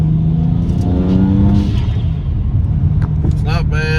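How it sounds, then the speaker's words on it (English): A car accelerating under load on a cold day, heard from inside with the windows up, gives a loud, steady engine rumble with rising tones and turbo whooshes and whistles toward the end. "You can hear all the turbo noises again, so that's definitely a plus."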